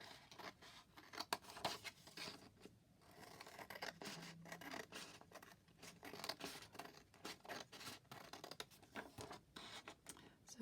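Scissors snipping and rasping through a sheet of book page glued onto card, quiet and close, with steady small cutting strokes and scraping of paper throughout.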